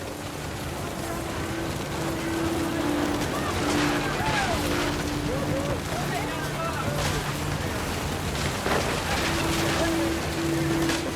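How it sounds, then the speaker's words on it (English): Heavy rain pours steadily in the video game What Remains of Edith Finch, a dense continuous hiss beneath a narrating voice and faint sustained musical tones. "The rain came down in buckets then"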